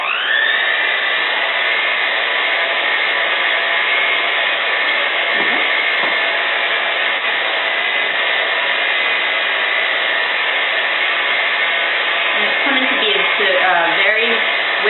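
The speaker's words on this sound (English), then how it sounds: "So now we're going to blend these together to get that creamy texture for the filling." An electric mixer whirs loudly and continuously, close up, as it blends a chocolate chip cheesecake filling for cupcakes, with faint scraping and a slight change in tone toward the end.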